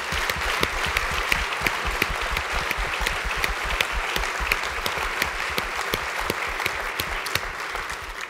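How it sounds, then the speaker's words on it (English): An audience at a luncheon event bursts into sustained, dense applause, many hands clapping steadily and loudly throughout with no talking over it. "Everyone, you want to give them a round of applause?"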